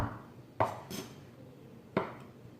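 A knife chops smoked brisket on a cutting board in a kitchen, two sharp knocks about a second and a half apart, faint and close, with no talking.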